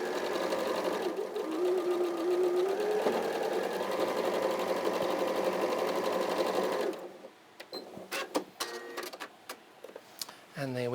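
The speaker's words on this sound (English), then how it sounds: "I'm stitching down the middle of that" Sewing machine stitching down the middle of a quilt block, a fast steady whirring hum for about seven seconds, then stopping, followed by a few scattered clicks and handling noises.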